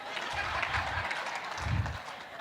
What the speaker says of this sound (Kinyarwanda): amashyi menshi kuri prostate